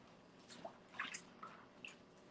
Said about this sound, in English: I'm just going to take the whole thing and submerge it